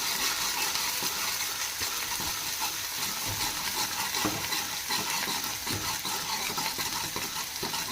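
Onions and sliced chillies stirred as they fry in a pan, a continuous close sizzle with scraping spatula strokes and occasional soft clinks against the pan.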